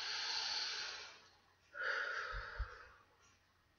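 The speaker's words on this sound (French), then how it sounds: "Prenez une profonde respiration" A deep breath taken during a guided EFT tapping relaxation exercise: a soft, long airy inhale followed by a breathy exhale, close and gentle, with no talk over it.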